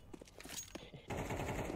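Gunfire in the video game Counter-Strike 2: a rapid automatic burst of shots, faint and compressed, with game ambience around it.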